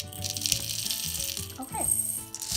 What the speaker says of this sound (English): I'm adding in 1/4 cup of popcorn kernels